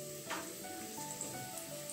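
Sliced onions frying in a little oil for a red chilli chicken curry, giving a steady soft sizzle and hiss close by with a few brief spits, no voices over it.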